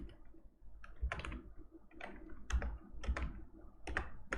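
Close, fairly quiet keystrokes as code is typed on a computer keyboard, in irregular bursts of several clicks separated by short pauses.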